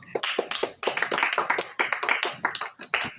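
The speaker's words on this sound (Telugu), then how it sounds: "అందరూ క్లాప్స్ కొట్టండి." A small audience clapping for game winners, quick uneven bursts of hand claps from a few people, close by and fairly faint, in irregular rhythmic clusters.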